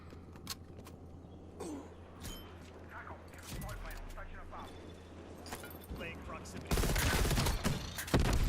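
Gunfire from an M16 rifle fitted with a rapid fire attachment in the video game Call of Duty Cold War, sharp shots and bursts over game noise, building to a loud dense stretch of firing near the end.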